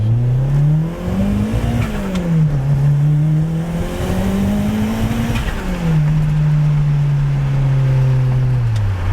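A Mitsubishi Eclipse running E85 accelerates hard under turbo boost, its engine note climbing through several gears with brief dips at each shift, loud and close throughout with no talking.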